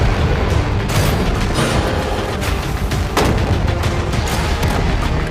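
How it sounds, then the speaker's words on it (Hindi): Guns fire at a container holding money, heavy booming shots and loud blasts landing in a steady, rough sequence up close, with a sharp crack near the middle and no voices over the din. "पहले बाकी शॉट्स फायर कर लेते हैं"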